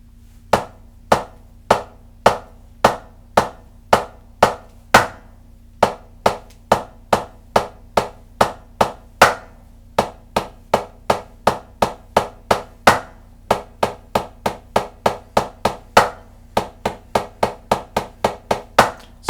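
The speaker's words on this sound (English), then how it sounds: "So here's a 9-stroke roll breakdown." Snare drum sticks play a 9-stroke roll breakdown as a long series of sharp, loud strikes, starting in spaced groups and gradually tightening into faster, denser bursts, with no voices.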